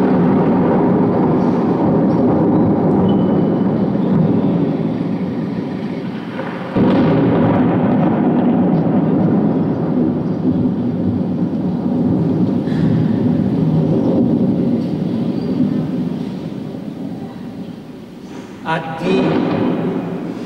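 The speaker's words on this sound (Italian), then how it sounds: "insorse qui un guagliardo temporale con tuoni e fulmini" Rolling, rumbling thunder from a lightning storm, a broad continuous roar that dips briefly and surges again near the end, heavy and close throughout.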